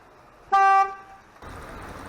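A single short car horn honk, loud and clear, recorded from a dashcam, followed after a pause by steady traffic noise.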